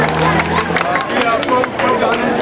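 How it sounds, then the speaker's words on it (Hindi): An audience claps in scattered bursts amid crowd hubbub at a live sale event, with a voice talking over the applause throughout. "तालियां बजा दें।"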